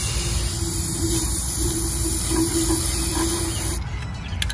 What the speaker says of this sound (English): I'm going to use my white Rust-Oleum spray and I'm going to spray inside of the vase